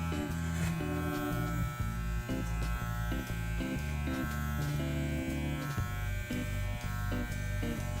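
An electric beard trimmer buzzes steadily and loudly for the whole stretch, its drone wavering and stuttering slightly as it makes passes through beard hair during an at-home trim.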